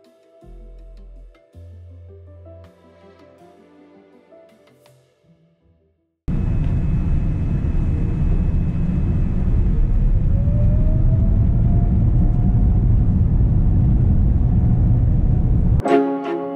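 A Qantas Boeing 787 airliner heard from the cabin during takeoff. Quiet cabin tones and chimes come first, then a sudden loud, steady roar of the engines sets in with a rising whine and holds for about ten seconds.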